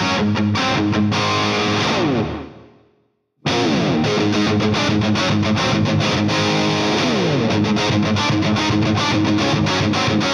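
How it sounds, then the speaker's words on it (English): Electric guitar played through a Rocktron Mega Booster clean boost pedal into an amp, loud driven chords that fade out, a brief silence, then return at full level with the boost engaged, ringing chordal riffing. "Rocktron boutique line is the Mega Booster. It basically just gives you a little bit of push on the amp"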